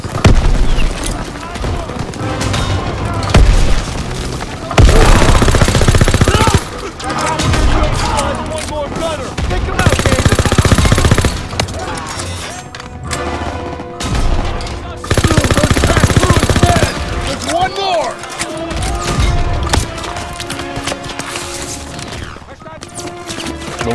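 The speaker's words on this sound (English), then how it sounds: "Everyone open fire!" Call of Duty WW2 battle during Operation Cobra: dense, loud automatic gunfire and booming shots nearly nonstop, with brief pauses, voices shouting under and between the bursts.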